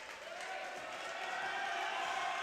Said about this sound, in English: this crowd really letting their Tigers hear it